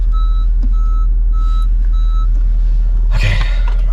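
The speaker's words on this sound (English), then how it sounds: "Oh, now we're beeping." Regular reversing beeps repeat four times at an even pace over a heavy engine rumble, followed by a sharp hiss of air near the end.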